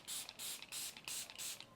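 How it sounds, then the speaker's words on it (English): Five rapid pumps of Revolution Super Hold Super Fix misting setting spray onto a face, each a sharp, close, airy hiss in a steady rhythm. "I'm gonna set with Revolution setting spray, Super Hold, Super Fix misting spray."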